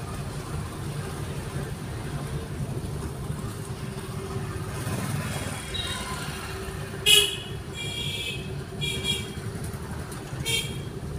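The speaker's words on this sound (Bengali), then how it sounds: "এরকম হর্ন দিতেই হবে মিনিমাম 2 সেকেন্ড।" Car horn sounding in traffic during a driving lesson, with a motorcycle and another car nearby: a couple of brief toots over steady road and engine noise, while people talk.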